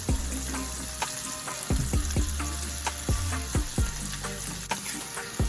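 Butter shrimp frying in a pan, a loud close sizzle with bursts of crackle and stirring clatter throughout.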